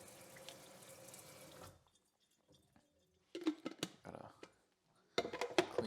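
Cold tap water gushes steadily into a sink while a coffee pot with leftover grounds is rinsed, then the flow cuts off and scattered clinks and knocks of the pot being handled follow, close and fairly loud.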